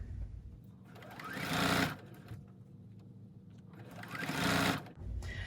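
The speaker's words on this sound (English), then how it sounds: "I'm just going to start a little bit past my batting and stitch my strips together." A sewing machine stitches quilt strips together over batting for a holiday table runner. It gives a close, steady mechanical hum, swelling into two louder, faster runs of stitching with no talk.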